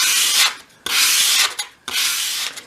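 Three long rasping strokes of 500 grade sandpaper rubbed by hand along the edges of a small wooden miniature piece, close and clear with short pauses between.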